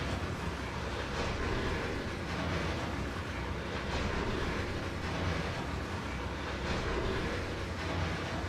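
A train on the Clinchfield route in Trainz, in the Appalachians, rumbles along steadily, a continuous low rolling roar with faint rhythmic clatter, moderately quiet and unbroken throughout.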